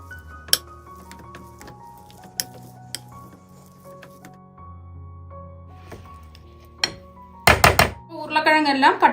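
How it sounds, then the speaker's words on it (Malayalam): Boiled potatoes are mashed in a vessel, with scattered light clinks and thuds of the utensil, then a loud cluster of scraping, squishing knocks near the end. "ഇനി ഉരുളക്കിഴങ്ങൊന്ന് പൊടിച്ചെടുക്കാം"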